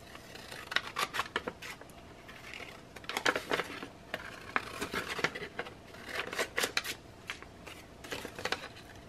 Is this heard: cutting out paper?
yes